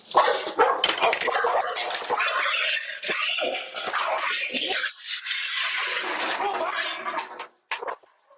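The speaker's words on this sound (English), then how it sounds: "a house with a barking dog on the porch" A dog on a house porch barks and yelps in a busy, continuous burst over dense background noise and voices, with sound cutting out briefly near the end.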